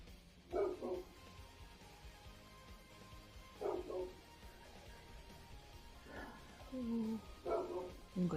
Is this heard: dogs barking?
yes